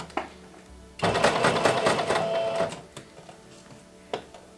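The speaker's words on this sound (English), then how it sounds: "I had to sew 2 separate layers to the skirt" A sewing machine runs in a close, loud burst of rapid stitching for under two seconds while attaching ruffle layers to a Wednesday Addams cosplay skirt, followed by a few quiet clicks and taps.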